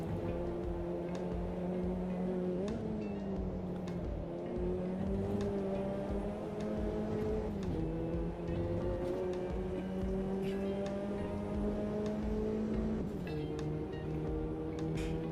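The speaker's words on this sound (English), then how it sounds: "It kind of sounds a bit MX-5 here as well, that throaty exhaust." Engine of an MX-5-like car in a sim racing game, a steady throaty exhaust drone that climbs in pitch and drops back at each gear change, held on continuously at moderate volume with no talk.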